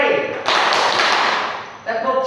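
A fourth-grade primary school class claps together during a classroom clapping game, producing a short, loud burst of many hands that sits between spoken voices.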